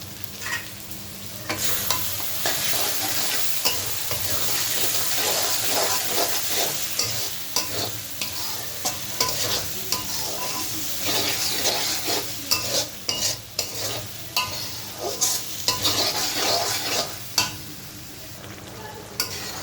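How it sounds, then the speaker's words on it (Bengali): Spices with ten or twelve cloves of garlic for beef curry sizzle in a pan while a spoon stirs and scrapes them, making an unbroken loud frying hiss with frequent irregular clinks and scrapes. "ভালোভাবে মশলাটাকে কষিয়ে নেবো"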